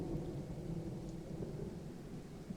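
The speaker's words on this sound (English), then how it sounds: "Starting to rain, thunder, that kind of thing." Rain and a low rolling rumble of thunder in the Firewatch video game, played in VR; the storm sits quiet and distant, a soft continuous wash with deep grumbling underneath and no talking.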